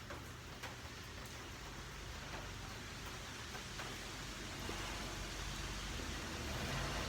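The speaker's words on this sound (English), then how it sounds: "You can probably hear the traffic" Steady rain hisses as a broad, even wash, with faint traffic swishing on wet roads far off, the noise swelling slightly toward the end.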